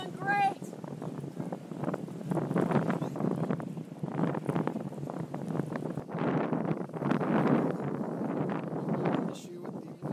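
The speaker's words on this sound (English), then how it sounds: "Issue with the wind." Gusty wind buffets the microphone outdoors at a riverside race event, a steady low rumbling roar that swells and fades in waves throughout, fairly loud.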